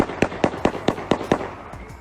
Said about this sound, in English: I'm going to say 12 shots